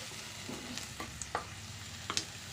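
Tomatoes for a chutney soften in a pan with a low, even sizzle, broken by several sharp clinks and scrapes of a spoon against the metal.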